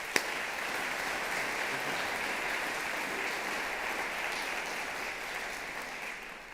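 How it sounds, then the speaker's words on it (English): An audience at a teacher awards evening applauds warmly for a Cox Communications executive, a steady even wash of clapping that starts with a single sharp clap and holds at the same level to the end. "Please give him a warm round of applause."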